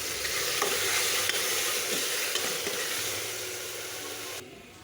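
Ginger garlic paste stirred into chicken curry in a pan, a close continuous sizzle with scraping strokes of a spoon, fading somewhat before stopping abruptly near the end, with no talking.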